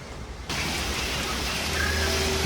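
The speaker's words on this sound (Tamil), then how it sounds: "மழை விட்ற மாதிரி தெரில." Steady, dense rain sets in abruptly and keeps pouring as a continuous close hiss, with no voices.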